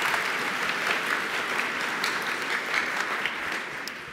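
Steady applause from a conference audience at a Python developer gathering, dense and continuous clapping that holds at an even level for the whole stretch with a faint murmur of the crowd.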